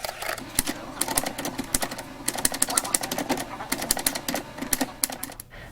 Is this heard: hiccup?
no